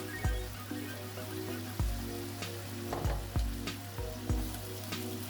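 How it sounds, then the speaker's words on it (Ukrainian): Meat with carrots and garlic frying in a pan, a soft continuous sizzle broken by several dull thumps and clinks of stirring at irregular intervals, with a steady low hum beneath. "Поки в нас жариться м'ясо разом з морквою"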